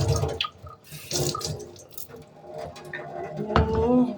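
Chopped potatoes are rinsed with water in a home kitchen, bringing close splashing, trickling and dripping that come in uneven bursts, with a brief voice near the end.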